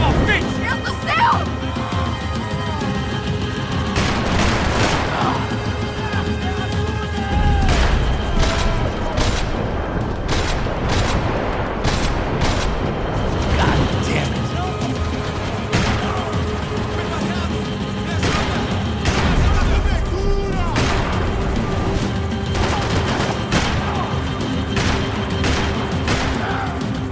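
Repeated gunfire bursts and booms ring out during a frantic chase in the video game Max Payne 3, loud and dense throughout, mixed with music and shouting voices.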